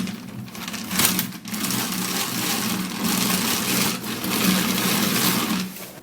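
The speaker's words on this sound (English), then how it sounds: "So I'm actually going to be stirring it this way." Gram flour mixture stirred steadily in a bowl, a continuous scraping, swishing whir that runs for about six seconds with a couple of brief pauses, close and fairly loud, with no talking.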